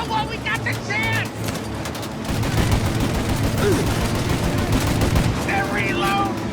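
Gunfire fills a shootout in the video game Mafia: Definitive Edition, with rapid bursts of shots and crackling volleys running continuously, while voices shout in the first half.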